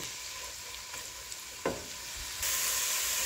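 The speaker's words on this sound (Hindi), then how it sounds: "ऑयल जब गर्म हो गया तो इसमें एक मीडियम साइज़ का प्याज, जिसके मैंने बारीक स्लाइसेस कर लिए थे, वो डाल दूंगी।" Sliced onions, a medium onion cut thin, fry in hot oil while making eggplant bharta, giving a steady close sizzle with a brief clatter of stirring and a louder hiss near the end.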